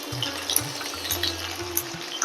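Beans and eggplant fry in a pan for a Bengali katla fish curry, giving a steady, close, hissing sizzle with a low rumble underneath. The sound runs unbroken throughout, with no talking.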